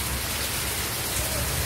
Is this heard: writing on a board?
no